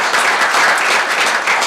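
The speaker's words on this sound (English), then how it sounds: "If we could all give them a round of applause" Loud, close applause from an audience at a legislative town-hall forum, a dense, steady roar of clapping hands throughout, with no speech over it.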